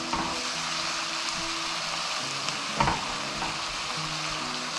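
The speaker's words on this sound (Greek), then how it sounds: "Θα αφήσουμε ένα λεπτάκι να εξατμιστεί και θα ρίξουμε το σιτάρι μας." Soaked, drained wheat goes into a sizzling pan for a mushroom risotto. Steady close frying hiss continues throughout, with a brief louder stir or splash partway through.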